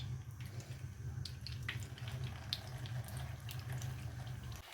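Chicken snacks fry in hot oil in a pan on a gas stove, giving a quiet, steady sizzle and crackle with no speech.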